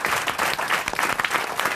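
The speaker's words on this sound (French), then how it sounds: "vous pouvez applaudir Marc-Antoine Lebray." Brief burst of studio audience applause at a radio comedy show, many hands clapping loudly and continuously with no pause.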